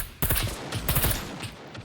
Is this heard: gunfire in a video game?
yes